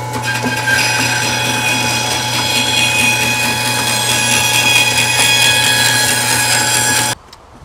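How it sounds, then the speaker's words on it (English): A bandsaw rips a wet piece of wood in a barn: a loud, steady motor hum with a rasping cut runs for about seven seconds, then stops abruptly. "we'll rip this up on the bandsaw"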